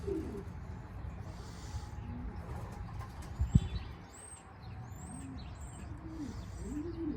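Racing pigeons give soft, low coos in a loft, repeating them in a gentle rhythm against a quiet background. A few faint chirps and one brief knock are also heard.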